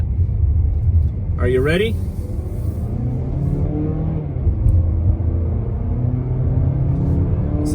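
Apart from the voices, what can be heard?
2019 Mazda3 accelerating on highway in sport mode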